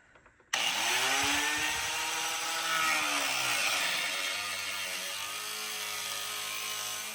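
A power tool cuts through an aluminum tow bracket part while a Blue Ox flat tow system is installed on a 2023 Jeep Grand Cherokee, a loud continuous grinding whine that starts abruptly and runs close and unbroken with slight changes in pitch.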